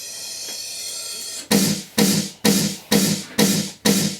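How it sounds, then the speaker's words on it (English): Six sharp, noisy snare-like synth hits land at an even tempo after a stretch of quiet hiss, each striking loudly and then decaying. "I have some effects. I have this one, just like a snare."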